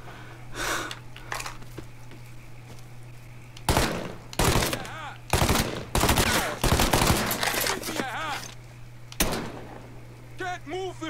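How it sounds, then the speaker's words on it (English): Gunfire in Mafia III on PS4: loud, close bursts of shots arrive in clusters, some rapid and rattling, separated by quieter gaps, with a steady low hum beneath and a person talking at times. "Can't move for him firing."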